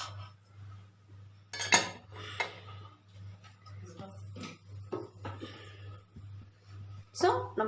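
A cake pan being lifted off a stovetop after baking a chocolate cake without an oven, topped with melted Dairy Milk chocolate: a few sharp, close metallic clinks and clatters over a steady low hum.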